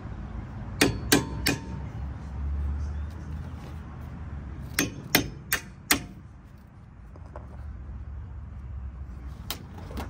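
A hammer taps on the front strut assembly of a 2007-2012 Nissan during replacement, giving sharp metallic knocks in small clusters of two or three, close and clear over a low background hum.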